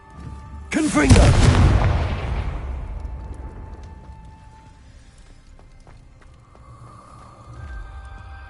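A Confringo blasting spell cast in a wizard video game sets off one loud, close explosive boom that rumbles and slowly fades, with a faint voice beneath it.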